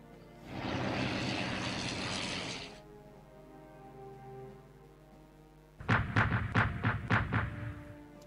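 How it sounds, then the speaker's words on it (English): Aircraft engines in the WW1 strategy game Strategic Command WW1 drone for about two seconds, then give way to a low hum before a burst of rapid, repeated mechanical thumps like gunfire or engine pulses. "A ton of planes are coming."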